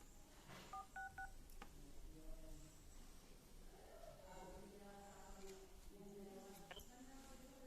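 A Realme Note 60 places a call after a network unlock: a few short keypad dialing tones sound, then faint phone tones and quiet background noise, very low in level.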